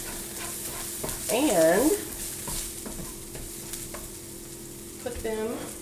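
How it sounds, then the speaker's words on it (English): Vegetables sauté in a pan for an omelette, a steady close sizzle broken by scraping stirs, with a brief voice in the middle and again near the end. "So I'm going to saute my veggies"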